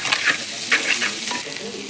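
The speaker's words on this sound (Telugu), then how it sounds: "ఒక స్పూన్ అల్లం వెల్లిపాయ పేస్ట్ వేసి పచ్చివాసన పోయే వరకు వేయించుకోవాలి" Spices frying with ginger garlic paste in a pan for prawn biryani, a close, steady sizzle with a few stirring scrapes over a short stretch.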